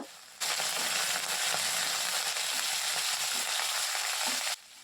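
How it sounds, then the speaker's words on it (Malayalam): Mustard seeds, dried red chillies and curry leaves fry in hot coconut oil for an upma tempering, making a loud, steady sizzle that starts suddenly and stops just as abruptly, with light crackles throughout. "വെളിച്ചെണ്ണ ചൂടായി വരുമ്പോഴേക്കും അര ടീസ്പൂൺ കടുകിട്ട് പൊട്ടിക്കുക"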